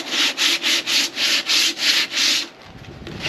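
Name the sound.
hand sanding Bondo body filler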